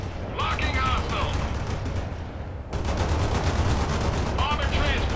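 Rapid gunfire from World in Conflict, a dense continuous burst of shots under radio-style voice chatter, pausing briefly before resuming.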